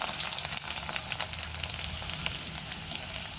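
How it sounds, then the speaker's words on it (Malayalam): Mustard seeds crackling and spluttering in hot oil in a pan, a dense steady sizzle with scattered sharp pops, close and continuous with no talking. "നമ്മളെ കടുക് നന്നായിട്ട് പൊട്ടിക്കഴിഞ്ഞിട്ടുണ്ട്"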